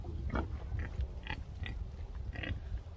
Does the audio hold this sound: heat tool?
no